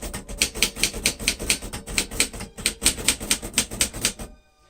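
Keys strike hard on a 1941 Royal Companion manual typewriter in a quick, steady run of crisp clacks, with a brief pause partway through and silence at the end.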